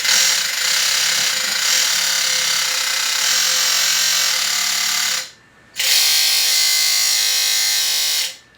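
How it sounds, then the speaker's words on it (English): Warped encoder wheels on a remote-controlled robot arm banging as it moves, a loud harsh grinding rattle that runs continuously, stops briefly, then resumes, with no talk. "The noise you hear is the encoders."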